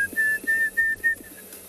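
A Diederik cuckoo calls from the background on a sunrise safari, with a series of clear, repeated whistled notes descending in a rhythmic run, fairly prominent against quiet bush ambience.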